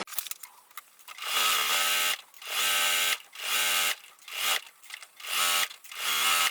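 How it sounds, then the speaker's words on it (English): Sewing machine stitching a quilted drawstring bag, running in repeated bursts of roughly a second each with short pauses between, steady and fairly close with no talking. "So I will start stitching from this side."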